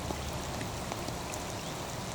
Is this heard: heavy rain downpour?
yes